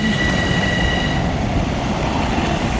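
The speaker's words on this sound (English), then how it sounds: "So this is the Long Island Railroad." A Long Island Rail Road train rumbles close by, a loud, steady roar of wheels on track with a faint high squeal and hum running over it, with no talk.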